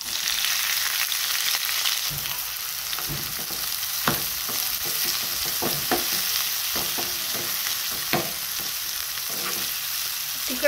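Green chilies fry in hot oil with cumin seeds, a steady close hiss of sizzling broken by scattered crackles and pops, plus occasional scraping as the pan is stirred, with no voices.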